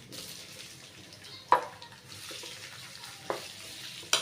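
Garlic and onion dropped into hot oil, a soft continuous frying crackle with a few sharp clanks from a spoon or pan, close and fairly quiet, without speech.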